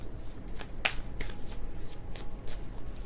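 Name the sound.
shuffling tarot cards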